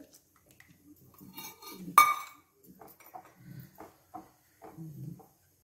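Firni being stirred in a pan, with soft scraping strokes and a single sharp metallic clink partway through, fairly quiet and irregular, no speech.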